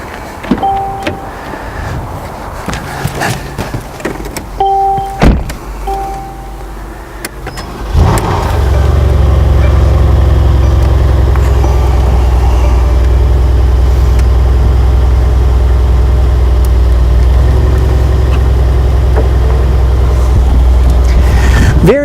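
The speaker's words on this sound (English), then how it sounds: "I'm going to go ahead and start it up, and we'll listen to the exhaust note here." A 2018 Mercedes-AMG C63 S fires up after some quiet cabin clicks, its engine catching with a loud burst and settling into a deep, steady, rumbling idle that holds close and strong for the rest of the stretch.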